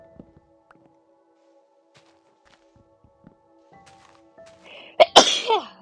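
A single sharp sneeze bursts out near the end after mostly quiet background with faint tones and small knocks, followed by a brief breathy tail.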